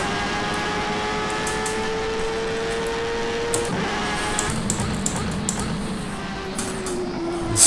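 Engine of a Jordan 191 Formula One car lapping Spa in rFactor 2, a steady high-pitched whine that holds and shifts pitch through gear changes, continuous and close, with no talking.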